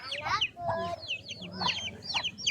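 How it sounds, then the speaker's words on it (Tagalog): Several chickens clucking close by, a cluster of short choppy calls with brief pauses, some overlapping, with faint low background noise. "May mga manok oh."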